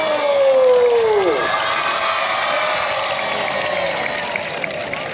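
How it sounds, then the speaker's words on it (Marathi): Students in an audience clap together on a police drill ground during a racing day event, a dense, sustained wash of applause and crowd noise, with a brief falling whistle-like tone at the start. "सर्वांनी टाळ्या वाजवायचे"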